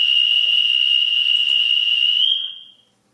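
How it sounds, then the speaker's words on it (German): A Märklin BR 146.5 model locomotive's conductor's whistle sound function plays as one steady, shrill electronic tone held for over two seconds before fading out, close and alone. "Das wird sich wohl um die Pfeife des Schaffners handeln."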